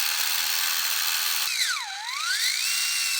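Small electric motor for a metal-chassis RC car runs on a bench power supply, a steady high whine that swoops down and back up in pitch midway, close and alone with no talk.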